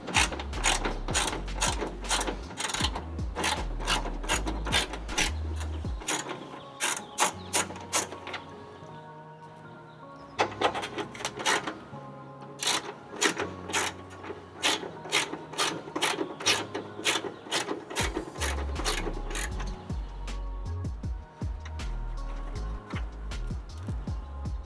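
Rapid ratcheting clicks from a ratchet wrench removing mud flap screws on a third-generation Toyota Tacoma, coming in loud close bursts with brief pauses between.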